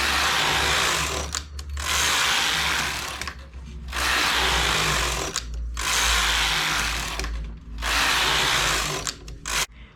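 A knitting machine carriage sliding slowly across the needle bed while knitting English rib, making repeated long rasping mechanical sweeps with brief pauses between passes, loud and close with no talking.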